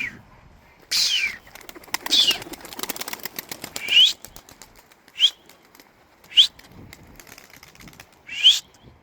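Pigeons take off in several separate bursts of flapping wings, each a sharp whistling flutter of a second or so, close by with quiet gaps between.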